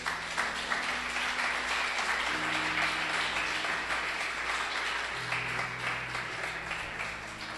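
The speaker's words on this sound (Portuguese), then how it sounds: "Você pode aplaudir ao Senhor?" A church congregation applauds, with dense, sustained clapping filling the room and a low steady tone running underneath.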